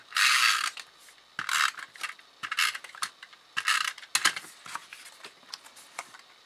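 Snail adhesive tape runner rolled across layered card stock in several short bursts of ratcheting clicks and rasps, close and crisp, separated by light handling taps and brief pauses.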